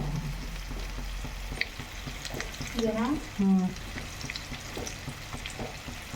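Masala sizzling and frying in hot oil in a home kitchen as fried rice is cooked, a soft steady crackle with a couple of brief stirring or scraping sounds in the middle.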